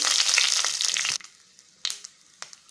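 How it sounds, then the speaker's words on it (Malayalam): Mustard seeds crackle and spit in hot coconut oil in a pan, a dense sizzling burst for about a second, then sparse isolated pops. "കടുകിട്ട് പൊട്ടിക്കണം"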